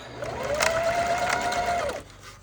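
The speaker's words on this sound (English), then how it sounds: "We're going to back stitch at the start and stop." A sewing machine runs back and forth while back stitching a bag seam, producing a steady mechanical whirr for about two seconds with a rising and falling motor tone, then stopping.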